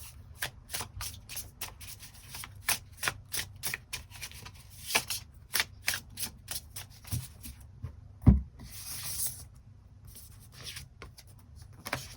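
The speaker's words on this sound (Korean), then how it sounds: "새로운 인연의 등장 가능성에 대해서도 추가 카드 뽑아보도록 하겠습니다." Tarot cards are shuffled by hand in quick, crisp riffling bursts at close range, repeating irregularly with short pauses and one sharper tap near the end.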